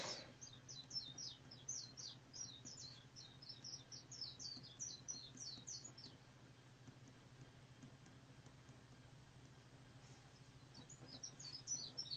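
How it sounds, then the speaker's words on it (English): Outdoors, a bird sings rapid bursts of bright chirping notes for about six seconds, pauses, then starts again near the end, all over a quiet low hum of background noise. "Can you hear the birds? Yeah, they sound beautiful, man."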